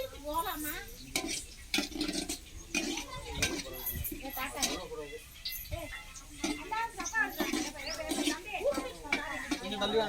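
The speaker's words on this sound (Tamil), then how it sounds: "நம்ம இப்போ கறி அள்ளி கொட்ட போகிறோம்" Meat for uppu kari being scooped into a metal cooking pot, with repeated clanks and scrapes of a ladle against the pot under steady talking.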